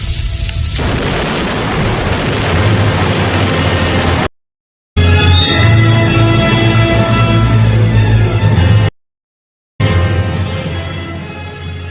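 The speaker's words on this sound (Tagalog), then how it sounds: "Sumabog at umapoy doon sa binagsakan ng bolang apoy" A crashed fireball explodes with a massive, sustained roaring boom that rumbles on for seconds, cut by two abrupt silent gaps before the thunderous blast returns, loud and close.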